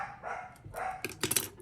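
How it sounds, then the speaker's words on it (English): Dogs bark indoors in a short burst of quick, overlapping yaps and woofs, moderately loud and close, with no one talking over them. "I do apologize for my dogs."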